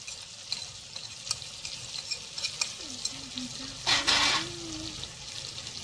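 Taro and potato frying with ginger paste, a constant crackling sizzle with regular spatula scrapes and clinks, close, and a brief burst of running water partway through.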